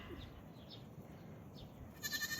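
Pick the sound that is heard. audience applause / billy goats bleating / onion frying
billy goats bleating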